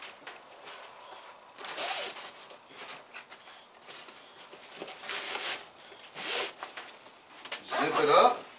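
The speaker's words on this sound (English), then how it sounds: "Just zip it up." A zipper runs on a pouch of a tactical range backpack, several short zipping strokes at close range mixed with rustling and handling, alongside a speaking voice.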